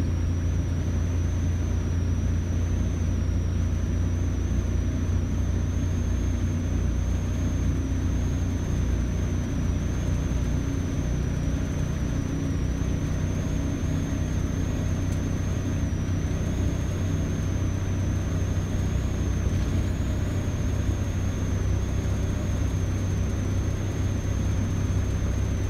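Renault car powered by a 670 cc Predator V-twin engine cruising on the road: a constant low, rumbling drone with a faint high whine on top, steady and even throughout, with no speech.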